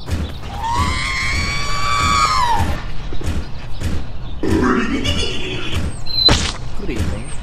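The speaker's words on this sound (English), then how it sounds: "The machine screams as it spots someone." A Martian fighting machine in a War of the Worlds video game lets out a loud, wavering mechanical scream lasting a couple of seconds, followed by crashes and other game noises.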